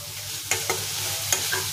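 A spatula knocks and scrapes as green chillies, leaves and spices are stir-fried in a pan for a fish curry, a few sharp strokes over a low sizzle, close and without speech.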